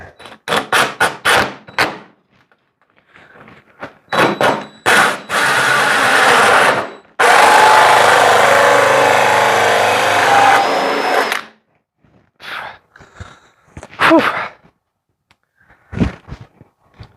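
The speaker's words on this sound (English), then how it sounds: "Pilot bit needs to be longer. I'm drilling on kind of an angle here." A power drill with a pilot bit drills at an angle in several bursts, short stabs and then two long sustained runs, loud and close, with clicks and handling noise between.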